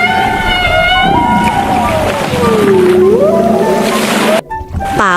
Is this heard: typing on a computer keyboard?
no